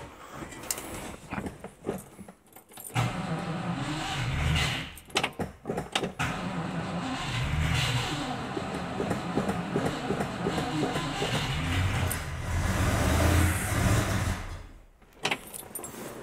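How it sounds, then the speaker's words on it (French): A Chambord car engine with the choke pulled nearly full out cranks briefly, then catches and runs as a loud, rough, steady rumble for over ten seconds before dropping away, with no talking. "Premiers instants de vie du moteur."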